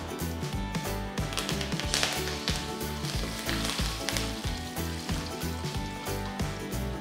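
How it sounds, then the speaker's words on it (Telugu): Mustard seeds splutter in hot oil in a pan with halved red chillies, asafoetida and curry leaves, a continuous crackling sizzle with quick irregular pops under a low rhythmic hum, at steady moderate loudness. "ఆవాలు సౌండ్ వినిపిస్తుంది"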